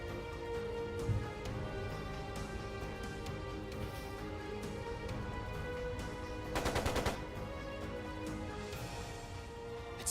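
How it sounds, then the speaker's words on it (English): Sustained bursts of machine gun fire from Trails of Cold Steel 2, rapid rattling volleys over a dense game soundscape, with a sharp louder burst near the middle and no talking. "It sounded like a machine gun."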